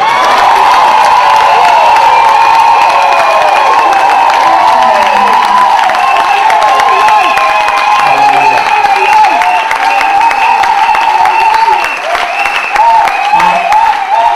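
A large church congregation cheers and applauds loudly and continuously, with whoops and shouts blending into a dense, sustained roar that fills the hall before easing slightly near the end.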